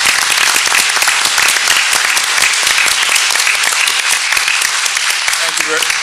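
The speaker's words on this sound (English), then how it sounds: "Let's give them a round of applause for being here." Loud, sustained applause from a school board meeting audience fills the room for several seconds, dense clapping without pause.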